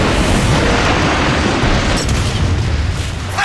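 Metroplex firing in Transformers Fall of Cybertron, a loud sustained booming explosion with rolling rumble and scattered debris bursts, filling the scene without speech.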